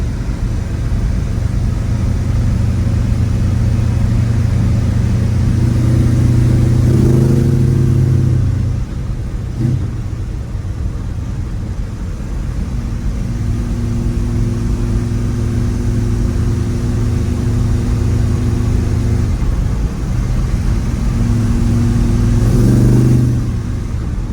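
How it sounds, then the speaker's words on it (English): Loud, continuous engine rumble and road noise from inside a 1973 Dodge W200 4x4 pickup with a 360 V8 and automatic, cruising at 65 mph on a highway, the engine note rising and falling slightly. "Really good truck, 65 mile an hour right down the highway."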